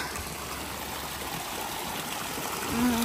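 Steady rushing and trickling of clear flowing spring water in Alaska, close by and continuous, with a slight swell near the end.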